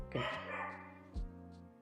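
Two close dog barks, the first drawn out into a whining yelp, the second short and sharp, over a steady low background hum.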